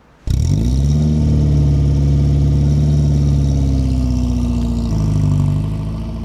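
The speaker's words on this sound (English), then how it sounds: "I'm actually going to get you in the car and driving now" A Triumph TR4A roadster's engine catches after a brief silence and settles into a steady, loud, close idle with a deep, even burble that holds throughout.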